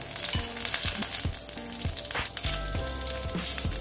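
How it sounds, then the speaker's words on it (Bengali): Whole cumin, garam masala and bay leaf crackle and sizzle steadily in hot oil, a dense close spitting hiss with faint clicks of a utensil underneath, no voices. "তেলটা প্রায় গরম হয়ে গেছে। আমি ফোড়নে দিয়ে দিলাম জিরে, গোটা জিরে, তারপর গরম মশলা আর তেজপাতা"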